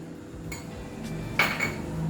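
A spoon stirs a besan and moong dal mixture in a metal pan for kachori filling, giving soft scraping and a few light clinks over a low background hum.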